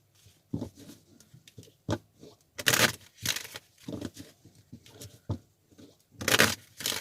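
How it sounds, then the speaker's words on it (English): Oracle cards are shuffled close by in a run of soft, irregular papery riffles and taps, with several louder bursts of cards slapping and rustling together. "Spirit is telling me to shuffle."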